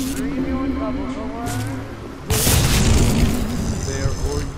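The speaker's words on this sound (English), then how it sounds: "No, it's just a ball launcher." A ball launcher in Bioshock fires with a sudden heavy boom about halfway through, following a stretch of game chatter and tones, then rumbling aftermath.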